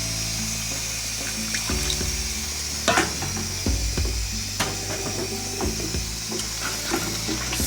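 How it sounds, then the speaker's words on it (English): A stew being stirred in a pot over heat, a steady sizzling bed with repeated scraping and clinking strokes of the spoon against the pot, close and continuous, no talking. "Stir very well to combine"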